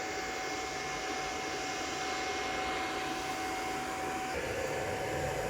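An 8-GPU mining server hums just after power-on, its fans making a steady broadband whir with a constant tone that shifts slightly near the end.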